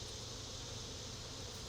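Honeybees buzz steadily at an opened hive during an inspection, a dense, even hum with no talk over it.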